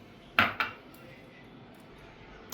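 Soaked soapnuts drop into a metal vessel with two sharp close clinks in quick succession, followed by quiet room tone.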